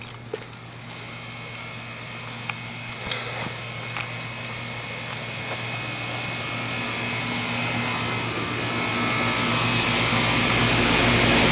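A 2004 Goodman 10 SEER 3.5-ton heat pump running outdoors with a frozen spot, a steady mechanical hum and fan whoosh that grows louder, with a few faint clicks and knocks early on.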